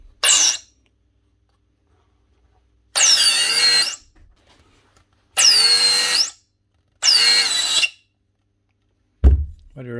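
A 30-year-old Makita 9045N half sheet sander with worn bearings runs in four short whining bursts separated by silence, ending with a brief low clunk.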